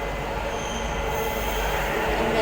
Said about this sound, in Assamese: 5 মিনিটতে আমি মেট্ৰ' আহি গ'ল